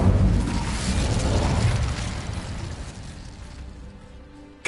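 The Incendio fire spell in Hogwarts Legacy on PS5, a loud whooshing burst of flame that roars up at once and slowly dies away, followed by a short sharp pop at the end.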